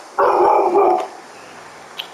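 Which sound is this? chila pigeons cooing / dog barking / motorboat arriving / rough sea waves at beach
dog barking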